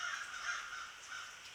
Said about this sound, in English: As you can hear, the crows.